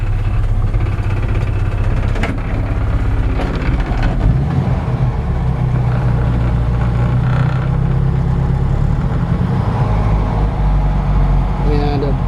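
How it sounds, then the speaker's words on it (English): A barely warmed-up 1952 Ford F1 pickup engine runs with a steady, loud, close low rumble, easing as the throttle is released, and a light window rattle may sit within the engine noise. "as I let off that gas, you can hear that window rattling just a little bit"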